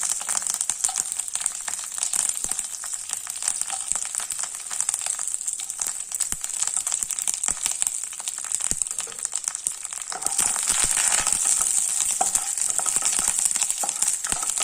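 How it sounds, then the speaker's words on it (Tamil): Peanuts, chana dal, curry leaves and dried red chillies fry in hot oil, giving a loud, dense crackle that grows brighter and busier toward the end. Occasional stirring clinks sound up close, with no talk. "நல்ல பொரியட்டும் நிலக்கடலை பருப்பு இந்த கடலை பருப்பெல்லாம் கொஞ்சம் செவந்து வந்த உடனே"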